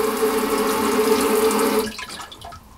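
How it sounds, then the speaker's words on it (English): A strong, steady spray of water from a self-cleaning bidet hisses for nearly two seconds, then cuts off abruptly, leaving a few faint drips and splashes. "And see how it starts spraying water out."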